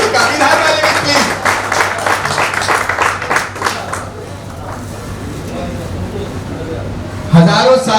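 Applause from an audience at a grand celebration, a burst of clapping in the first half that thins out, with people talking over it and a sharp knock near the end.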